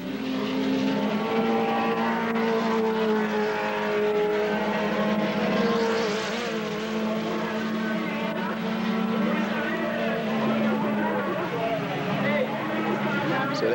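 Classic racing cars roar past on the Wallerfield track in Trinidad, with steady loud engine drone and shifting pitch as they pass, under continuous commentary.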